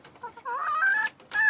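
Chickens in a favourite henhouse call out nearby: a short string of rising, throaty clucks that builds into a longer squawking cry, a brief pause, then another loud squawk.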